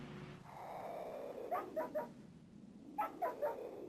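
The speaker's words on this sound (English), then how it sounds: "no, this is mostly just dog noises and sheep." Dog barking noises in the Wario Land 4 video game: two quick clusters of three small yips each, faint and close over a soft background tone.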